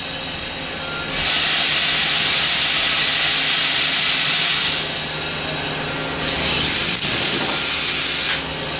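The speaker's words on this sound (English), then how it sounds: "At this point, you want to drill out the holes." Two long bursts of a high, whining power drill boring holes through a floor, separated by a pause, over a low background hum.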